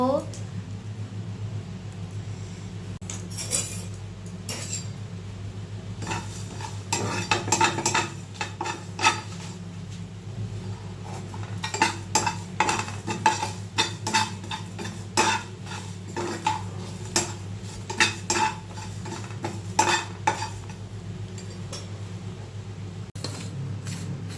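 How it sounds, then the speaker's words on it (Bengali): Spoon scraping and stirring in a pan as fennel seeds, coriander seeds and dried red chillies dry roast for a Bengali paneer curry, with irregular clinks and scrapes under steady background hum and a voice speaking. "এক চামচ মৌরি এক চামচ ধনে দুটো শুকনো লঙ্কা এটাকে আমি ভালো করে ড্রাই রোস্ট করে নেব"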